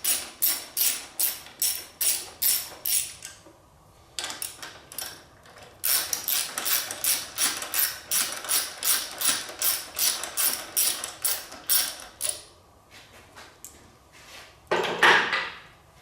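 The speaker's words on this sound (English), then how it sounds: "And then I'll remove the 2 bolts holding the coil packs on." Ratchet wrench removing the two bolts that hold the coil packs on a Yamaha V-Max motorcycle: loud, close, rhythmic ratcheting strokes come in bursts with short pauses between them, followed by a brief metallic clatter near the end.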